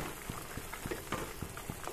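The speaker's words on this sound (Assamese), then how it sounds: "এতিয়া উতলি আছে মোৰ আনাৰসখিনিও ধুনীয়াকৈ সিজি আছে" Pineapple curry bubbling in a pot, with soft popping bursts at a fairly regular rhythm over a steady low simmering hiss, close and moderately quiet.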